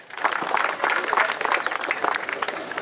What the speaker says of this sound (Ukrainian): Давайте привітаємо оплесками